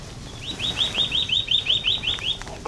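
A bullfinch calls outdoors at Pennington Flash, a quick run of about a dozen short, high chirps at moderate distance over faint background noise.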